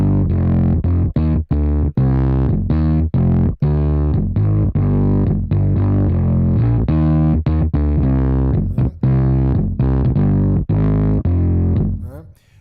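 A loud, hard, distorted bass line from the Ujam Bassist plugin, thick sustained notes in a choppy rhythmic pattern with brief gaps, played alone and filling the clip until it fades at the end.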